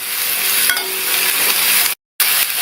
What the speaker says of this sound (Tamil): சேர்த்துட்டு 1 நிமிஷம் போல நல்லா இந்த எண்ணெயிலேயே வதக்கி விட்டுக்கணும்.